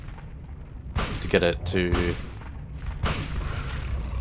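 Gunshots from a firearm in the Silent Hill video game, inside Midwich Elementary School. Several loud, sharp reports go off close by, one near the start and one about two seconds later. A person talks briefly over the shots.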